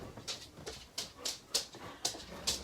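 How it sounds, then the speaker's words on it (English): A dog whimpers and pants in a series of short, high-pitched whines that come roughly every half second, close by in an otherwise quiet indoor room. "I have this feeling Sherlock's going to be barking."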